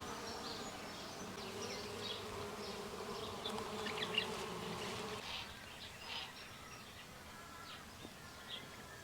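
Bees buzz steadily through a spring kitchen garden, a continuous mid-distance hum with faint bird chirps scattered above, no talking.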